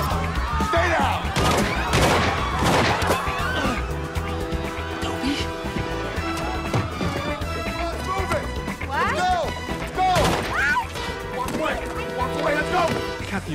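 Sharp gunshots ring out during a comedy movie scene. Several loud cracks cluster near the start and another comes around the ten-second mark, mixed with shouting voices, music and busy background commotion.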